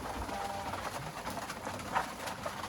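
Pigeons coo softly in a freshly cleaned loft, a few low, faint calls over a quiet background hiss.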